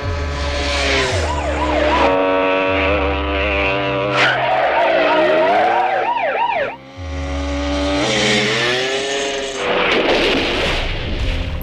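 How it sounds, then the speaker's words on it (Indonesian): A police car chase scene from the Rambo film: wailing sirens rise and fall over roaring engines, with loud tire skids and screeches throughout and a brief lull before the chaos resumes. "Sheriff Tesley mencoba mengejar, namun aksinya terhenti ketika mobil yang dikendarinya terguling."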